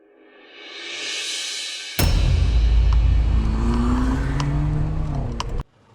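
A car drives off to escape, with an engine swelling closer, then a sudden loud, full roar and rumble as it pulls away hard, revving for several seconds before cutting off abruptly, no voices.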